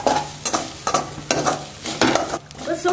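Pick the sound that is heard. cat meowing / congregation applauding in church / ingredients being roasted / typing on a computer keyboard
ingredients being roasted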